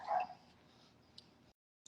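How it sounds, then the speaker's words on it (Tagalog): A French Bulldog lets out a single short, fairly loud bark right at the start, followed by quieter room noise, a faint tick, and a brief high chirp near the end. "French Bulldog"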